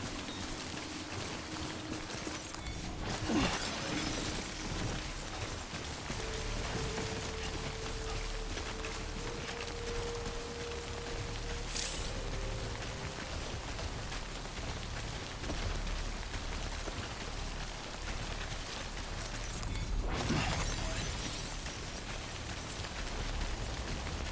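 Timefall rain from the video game Death Stranding falls steadily and fairly close, a continuous wash of drops on surfaces, with a low electronic hum and a couple of brief louder swells mixed in; no one speaks.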